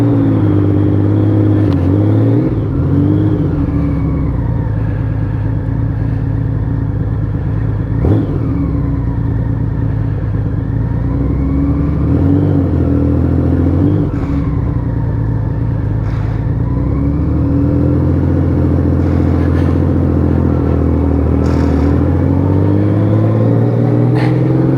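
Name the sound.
Honda Valkyrie 1500 motorcycle engine riding, Gold Wing engine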